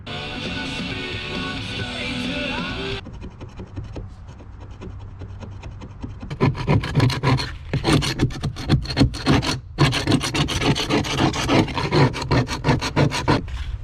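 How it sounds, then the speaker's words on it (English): Old carpet glue and dirt being scraped off the floor of a Stratos 295 Pro Elite boat, loud close rasping strokes in a steady rhythm, faster and more intense in the second half, with no talking. "This is what I'm using to scrape, by the way."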